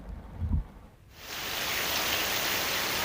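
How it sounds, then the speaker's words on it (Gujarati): Heavy rain falls in the Gir forest, starting as a low rumble and swelling into a steady, dense wash of noise that stays constant and moderately loud with no voices. "ગીર અને ગીર જંગલમાં ધોધમાર વરસાદ છે તે વરસી રહ્યો છે"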